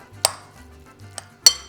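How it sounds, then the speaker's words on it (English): An avocado being chopped loosely with a spoon for guacamole: three sharp clinks of the spoon striking a bowl, spaced irregularly, with soft scraping and low handling noise between them, close and fairly quiet. "So you're just gonna start chopping it loosely with a spoon."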